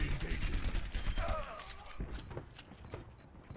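Soldier: 76's rifle fires in Overwatch, with rapid repeated shots in a busy mix that gradually thins to scattered, fainter pops.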